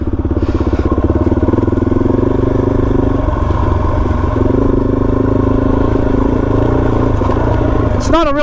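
A Suzuki DRZ400 motorcycle is ridden along with its engine chugging and revving up close, shifting pitch through the ride, and a voice talks over it.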